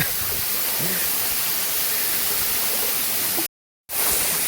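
Aanayadikuthu waterfall at Thommankuthu in Idukki roars as a dense, steady wash of falling water, close and loud, cutting out for a moment near the end before resuming.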